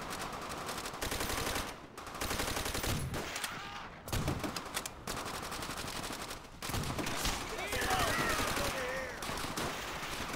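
Gunfire in the World War II shooter Call of Duty: World at War: repeated bursts of automatic fire and shots with brief gaps, loud and dense, with faint game voices underneath.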